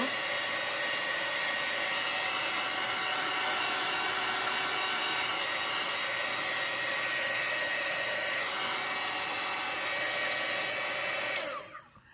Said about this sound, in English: matte gel medium dries fairly quickly when you use a heat gun